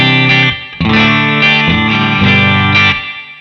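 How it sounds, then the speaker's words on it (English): An electric guitar runs through a NUX Mighty 8 BT practice amp, with its headphone output feeding an audio interface, giving a loud, distorted, effects-laden tone as a few sustained chords are struck and let ring. "So I'm running the headphones out in stereo into my audio interface, and everything sounds like this."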